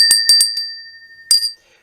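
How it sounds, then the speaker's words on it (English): A bell decorated with king and queen figures is rung, giving several bright metallic dings in quick succession. A sustained ringing tone follows, then one more strike near the end, close and loud with no talking. "Speaking of noise, we have a bell,"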